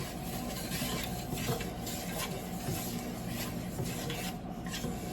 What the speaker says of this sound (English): let that saute with these vegetables